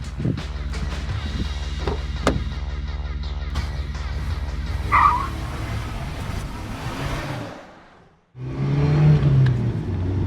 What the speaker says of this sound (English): So we're going to take our turbocharged ND, hop on in, we'll go for a drive.